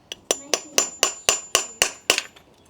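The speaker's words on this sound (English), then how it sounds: "we'll grab a little hammer and we'll just force it in" A small hammer taps a Yakima HD roof rack cross bar mount and nut into place on an Isuzu MU-X MY21 roof: eight sharp, evenly spaced metallic strikes, close and clear, with no talking.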